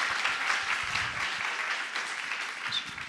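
Audience applause at a scientific summit live session, a steady wash of many hands clapping at moderate level throughout, fairly distant and even.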